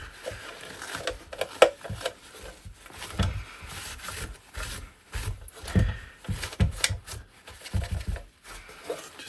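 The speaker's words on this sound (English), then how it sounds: "General wiping down." Close, uneven rubbing and scuffing as an old Electro-Harmonix Small Clone pedal is wiped down by hand, with irregular strokes and soft knocks, quiet and without speech.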